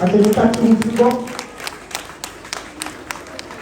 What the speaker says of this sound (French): je voudrais que vous vous applaudissiez vous-même très très fort